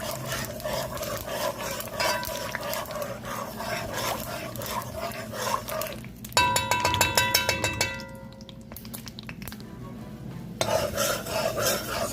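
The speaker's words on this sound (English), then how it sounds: "At this point, I like to stir my pot to make sure that everything browns evenly." Oil and sugar being stirred in a hot pot for Trinidadian pelau, steady scraping and rattling of a spoon against the pot, with a brief metallic clatter midway before the stirring resumes.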